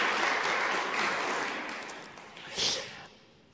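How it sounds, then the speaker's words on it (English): A studio audience at a conference event gives a short burst of applause that fades out over a few seconds, with a brief louder swell near the end. "you get a big round of applause from all our participants here in the"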